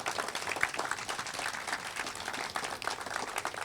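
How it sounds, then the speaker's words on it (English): Applause from a gathered crowd at a donor recognition event for an aquatic center, a sustained round of clapping at moderate distance, steady with small swells. "Can we give them a round of applause, please?"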